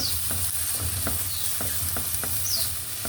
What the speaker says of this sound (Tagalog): Pamantikahin natin, pa-brownin natin para masarap.